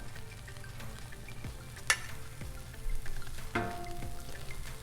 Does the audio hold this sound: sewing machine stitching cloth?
no